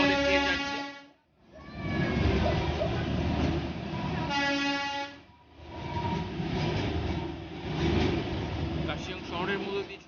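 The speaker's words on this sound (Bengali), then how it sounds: "কার্শিয়ং শহরের মধ্যে দিয়ে আমাদের ট্রেন যাচ্ছে।" Darjeeling toy train rumbling through Kurseong town, a steady rattling roll with two long horn toots; a voice talks over the running train.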